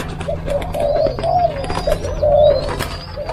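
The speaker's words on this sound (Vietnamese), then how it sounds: "Chim cu gáy nha cả nhà." Spotted doves kept in an aviary for breeding coo in a steady series of soft, rounded calls, loud and close, with no talking over them.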